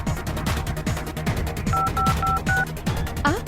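A quick run of phone keypad beeps, several short tones in a row, over a steady rhythmic backing beat.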